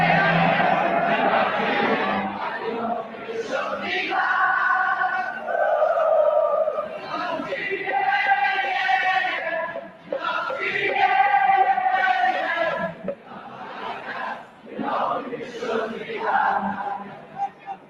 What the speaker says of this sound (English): The music the crowd sings is the music that Liverpool has sent echoing around the world.